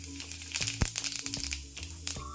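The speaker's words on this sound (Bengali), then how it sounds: "তার আগে দিয়ে দিচ্ছি অল্প একটু গোটা জিরে ফোড়ন।" Whole cumin seeds tempering in hot oil in a pan while a soybean and egg curry is cooked, giving dense crackling and popping over a low hum, with a few sharper clicks.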